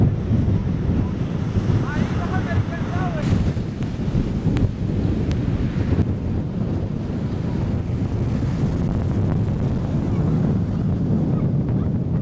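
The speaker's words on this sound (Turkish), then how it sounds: "Su bir anda yükseldi rüzgarla birlikte." Strong wind gusts buffet the microphone over rising surf at a fishing-town seashore in Anakao, Madagascar, a continuous loud roar of wind and waves with no talking.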